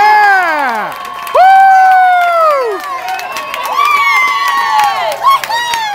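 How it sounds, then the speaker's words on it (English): Voices shout and whoop at a high school football home opener on a Friday night, loud overlapping cheers rising and falling for several seconds close by. "And the crowd goes wild."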